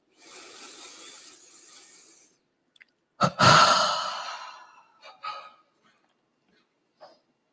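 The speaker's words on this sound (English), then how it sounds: "after the last breath is thrown out, then we start to just pay attention to the breathing" A long, soft exhaled breath during a guided breathing exercise, followed after a pause by a stronger, sighing exhale that tails off, with a few faint breathy sounds after it; close and quiet, with no talking.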